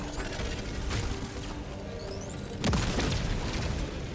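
Epoch weapon explosion in Helldivers 2, a single sharp blast landing partway through amid mechanical clicks, rising whines and steady game background noise.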